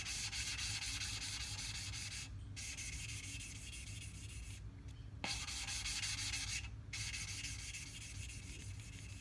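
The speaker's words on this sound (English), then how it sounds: "After a while of doing this, the amount of time between when you reset it and get more grit underneath there and when it gets quiet goes a lot quicker" Engine valves being lapped into their seats with grinding compound: a steady, close gritty rubbing that continues throughout, broken by a few brief pauses.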